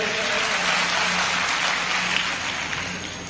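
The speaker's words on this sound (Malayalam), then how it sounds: "ഒന്ന് കൈയടിച്ചു കൊടുത്തട്ടെ" An audience claps together at a talk by a teacher, a dense sustained burst of applause that carries on without pause and eases slightly toward the end.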